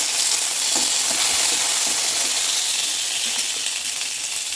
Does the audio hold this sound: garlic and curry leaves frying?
yes